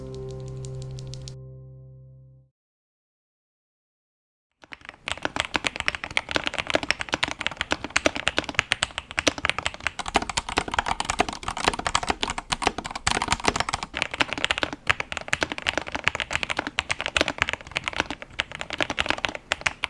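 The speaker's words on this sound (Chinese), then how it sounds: "键盘改造完成，不知道大家觉得这个声音是不是有明显进步呢？" Steady, rapid typing on a modded Keydous NJ68 mechanical keyboard with Quicksilver switches lubed with a GPL 105 and 205 mix, dense close-up muted clacks continuing for about fifteen seconds after a brief musical tone and a pause.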